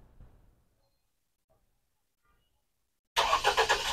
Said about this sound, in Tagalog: Diesel engine siya pero medyo matahimik yung makina, no?